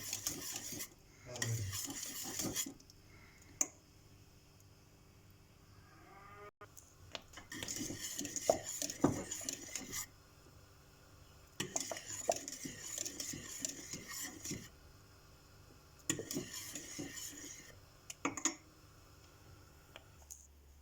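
Butter stirred into a thick milk pudding in a pot for a Cypriot dessert, with scraping, clinking spoon-on-metal strokes coming in close bursts separated by quieter pauses.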